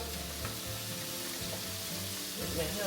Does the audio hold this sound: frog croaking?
no